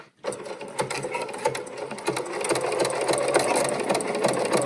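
A Bernina sewing machine stitches fabric at close range, starting abruptly and running at a fast, even clatter of needle strokes that grows slightly louder and steadier as it continues.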